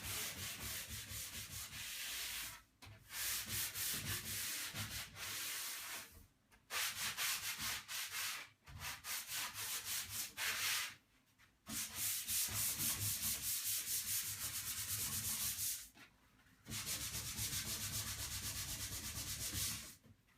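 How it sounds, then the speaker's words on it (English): Steady rasping strokes of sandpaper on an old pine furniture top, being prepared for varnish, loud and close, running in long bursts broken by several brief pauses. "the top will need a bit of a sand down because it's going to be varnish"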